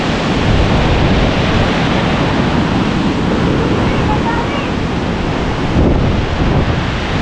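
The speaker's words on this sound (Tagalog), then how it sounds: "Lakas ng hangin na." Strong typhoon wind roars steadily and loudly during a super typhoon, a dense continuous rush of gusts buffeting the microphone with a brief surge near the end.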